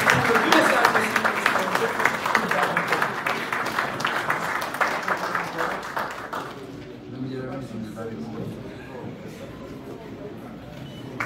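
Audience applause welcoming Haiti's head of state at an official ceremony, loud sustained clapping for about six seconds that thins out into murmuring room sound.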